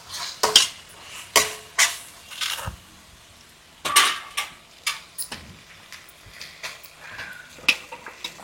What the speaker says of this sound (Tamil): இதோட கறியை போட்டு வதக்க வேண்டியதுதான்.